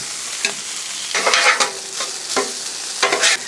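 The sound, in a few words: pork fried rice being mixed on a Blackstone griddle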